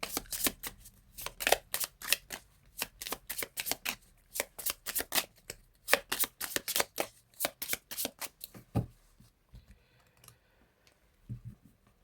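A deck of tarot cards being shuffled and cut, with rapid crisp riffling bursts in a steady rhythm, close and loud, then slowing to a few separate soft slaps as the deck is squared.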